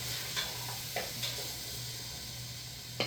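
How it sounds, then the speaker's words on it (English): Carrots stirred in a cooking pot, a few soft scraping and sizzling strokes over a steady low hum and background hiss, fairly faint and close. "And give that a stir."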